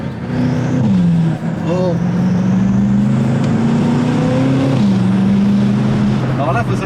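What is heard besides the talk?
BMW M5 F90 twin-turbo engine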